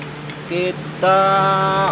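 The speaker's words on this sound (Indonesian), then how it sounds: "Sambil kita pegang, sambil kita starter motornya." A Yamaha Mio Soul motorcycle with a starting fault is cranked with its electric starter, giving a brief tonal whine and then a steadier, louder humming drone over a constant background hiss.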